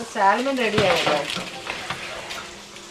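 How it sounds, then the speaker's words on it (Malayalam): Marinated food frying in butter sizzles briskly with stirring clatter, while a voice speaks or hums over the first second before the frying carries on alone. "ഇത് ജസ്റ്റ് ബട്ടറിൽ ഇങ്ങനെ ജസ്റ്റ് ഒരുപാട് ഫ്രൈ ചെയ്യത്തില്ല, എന്നാലും ഒന്ന് ഫ്രൈ ചെയ്ത് എടുക്കുക"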